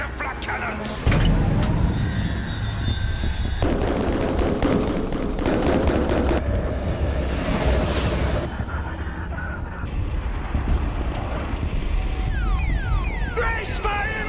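Rapid bursts of heavy flak cannon fire pound in quick volleys amid a noisy animated battle din, with explosions and mechanical clatter layered over a constant low rumble.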